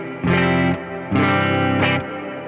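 Electric guitar through a Boss RV500 reverb pedal on the hall setting: three loud, sustained strummed chords, each ringing out with a wide, washy tail, with no voices.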